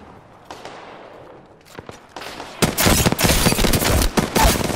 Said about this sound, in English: Keep shooting at him